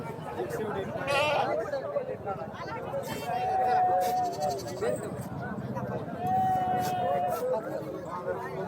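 Sheep and goats bleat repeatedly at a Sunday livestock market in Bhigwan, long wavering calls rising over a background of crowd chatter and talking nearby.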